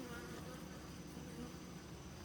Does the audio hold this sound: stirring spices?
no